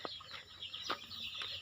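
Soft clucking and chirpy calls from a large flock of about 500 young chickens, several brief overlapping sounds, quiet and somewhat distant, with no talking.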